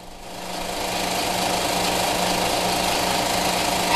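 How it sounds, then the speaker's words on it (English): A 1972 Arctic Cat snowmobile engine runs steadily after a brief start, a loud, close, buzzing two-stroke drone with a rapid even throb and no voices. "Start the machine and make the final carburetor adjustments."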